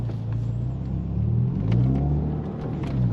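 A Mini Cooper S (R56) setting off and accelerating, its engine rumbling loudly and rising in pitch as it lurches forward, heard steadily from inside the car with no talking.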